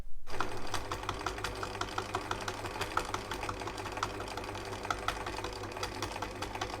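A Husqvarna 2000 domestic sewing machine stitches a pocket onto denim jeans, its needle running at an even, rapid rhythm with a steady motor hum, close and continuous throughout.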